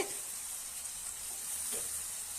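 Ripe, large tomatoes sautéing in a pan, a soft continuous hissing sizzle, faint and steady with no voices.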